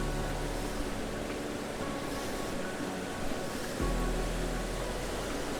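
A river near Lake Superior steelhead fishing water rushes steadily, a dense broadband wash of flowing water with no break, moderately loud and close throughout.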